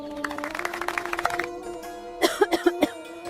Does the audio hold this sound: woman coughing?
yes